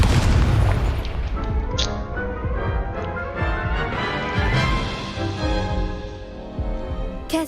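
Explosive booms from spells in the video game Hogwarts Legacy, several heavy blasts and crackling bursts in quick succession, loud and close with reverberating tails.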